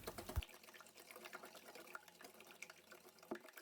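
Drinking water is poured into a bowl for a dough, a soft continuous trickle and splash close by and fairly quiet throughout.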